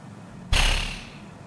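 An enemy in Elden Ring explodes with a single sudden, heavy burst that fades over about half a second, standing alone against low game ambience.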